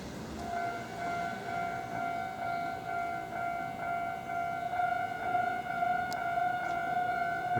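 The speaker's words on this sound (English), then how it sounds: "Here comes the train." A train approaches along Japanese railroad tracks, heard as a steady rumble under sustained high tonal whine from the rails or warning signal, fairly constant and moderately distant.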